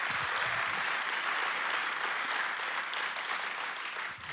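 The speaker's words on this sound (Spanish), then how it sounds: "Un aplauso al Señor." A church congregation applauds during a Sunday sermon, a steady, even wash of many hands clapping at moderate distance, sustained without talk and easing slightly at the end.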